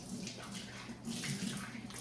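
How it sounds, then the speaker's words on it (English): Plastic containers are rinsed under a running tap, a close, steady splashing rush of water with slight surges as they are moved through the stream, fairly quiet and with no talk. "So let me rinse them really quickly."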